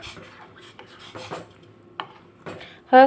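A spoon scrapes and rubs around a pot as warm milk is stirred with a cup of sugar, giving a few soft, separate strokes and ending in a brief louder metallic clink.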